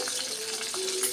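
A red byadgi chilli, mustard seeds and cumin hit hot oil for a dal fry tempering, producing a brief, bright, steady sizzle close up.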